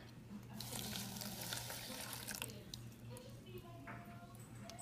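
Water runs steadily from a kitchen faucet or is poured into a pot for cooking about three-quarters of a cup, a close, continuous broadband rush with a low background hum and a few light clicks.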